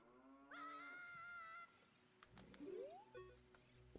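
A cow in the Jabu-Jabu's Belly dungeon of Zelda: Ocarina of Time gives one drawn-out synthesized moo, followed by brief rising game sound effects. No speech is heard.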